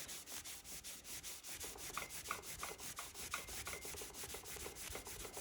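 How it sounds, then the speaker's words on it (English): A terry cloth towel with Flitz polish rubs corroded bicycle aluminum in quick, regular back-and-forth strokes, a faint, close, scratchy swishing repeated steadily. "I'm just using a towel, this little terry cloth towel."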